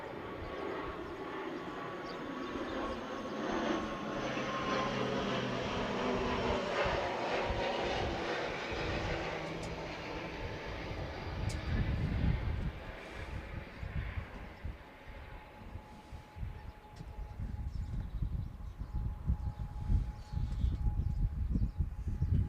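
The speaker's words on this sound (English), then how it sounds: "And here's another plane coming over." A plane passes overhead during an outdoor lawn bowls singles final, its broad engine roar sustained and fairly distant, swelling slightly as it crosses, with wind noise underneath throughout.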